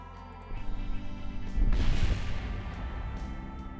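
A crash-landing explosion in Kerbal Space Program: a low rumble that builds into a heavy booming blast, followed by a rolling, fading roar, loud and close.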